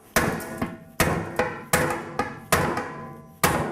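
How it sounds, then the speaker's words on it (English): A hammer knocks dents out of old, rusty, battered metal, giving six sharp ringing blows at an irregular, roughly even pace, close and loud with no talk. "I'm going to take my hammer."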